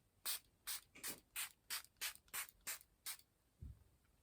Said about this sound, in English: I'm going to have a little spray.